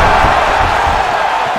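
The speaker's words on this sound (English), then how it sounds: "you hear the crowd" Video game crowd in a UFC 4 match between Chuck Liddell and Francis Ngannou, a loud, steady arena roar surging as a fighter loads up to finish, dense and continuous without any break.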